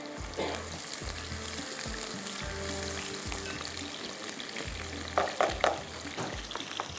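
Oil fries and sizzles in a pan while cooking for a kofta aloo dish, a continuous crackling hiss with rhythmic stirring scrapes and a few sharper spatters near the end, close up.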